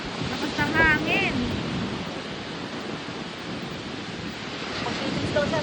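Strong wind buffets the microphone at a beach resort in Batangas, a loud continuous roaring rush with faint voices calling out briefly near the start.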